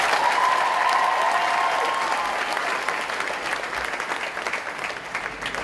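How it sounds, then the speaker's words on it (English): Audience applause for Nate and Emily during a university TV show taping, a dense burst of clapping that starts strong and gradually thins out, with faint crowd noise beneath. "Big round of applause for Nate and Emily."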